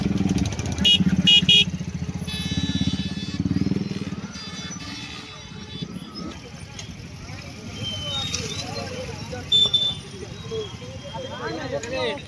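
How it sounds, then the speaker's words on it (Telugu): Motorcycles and other road traffic on a busy festival route to Balda caves in Odisha, with engines revving and passing nearby, a brief horn, and people talking throughout. "చూస్తున్నారు కదా ట్రాఫిక్ ఎలా ఉందో"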